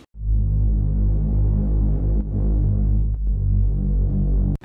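An OVO-style bass line from a future bass production in Ableton, following the root notes of the chord progression: deep, sustained low tones that shift pitch a few times, loud and steady with no voices.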